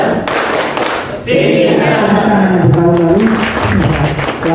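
A school group claps the Tepuk Pancawaluya rhythm together, loud bursts of hand claps mixed with voices chanting and a teacher talking over them.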